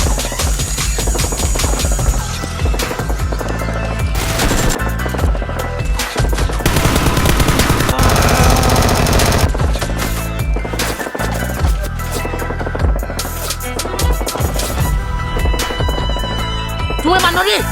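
Toy Nerf guns fire in rapid bursts of clacking shots during a staged play fight against a criminal group, mixed with loud background music and excited voices throughout.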